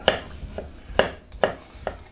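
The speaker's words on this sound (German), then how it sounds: "Wie fein ihr das jetzt euch schneiden wollt, das müsst ihr natürlich selber entscheiden." Knife chopping avocado and mango on a cutting board for tartare, four or five clean, close chops at an unhurried, slightly irregular pace, each a crisp tap on the board.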